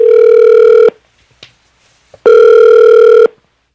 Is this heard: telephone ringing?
yes